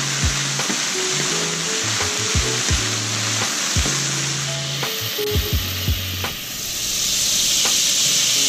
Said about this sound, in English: you're just gonna cook this down. You don't want the vegetables cooked all the way, but you want them to be tender